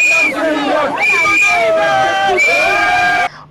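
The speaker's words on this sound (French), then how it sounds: "sous les chants et acclamations de ses sympathisants" A crowd of supporters sings and cheers loudly at the arrival of Simone Gbagbo, with overlapping voices in repeated chant-like phrases that stop abruptly at the end.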